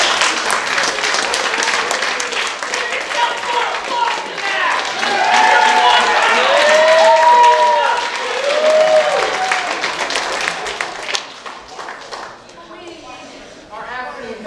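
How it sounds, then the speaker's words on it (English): Audience applause at a live improv comedy show, a room of people clapping loudly with scattered whoops and voices mixed in, swelling then thinning out toward the end. "So give yourselves a round of applause."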